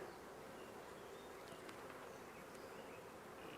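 Honey bees swarm around a starter hive, their steady buzzing a continuous, close drone with a few individual insects whining past at varying pitch.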